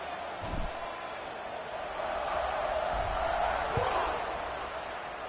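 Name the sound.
stadium crowd buzzing in American football video game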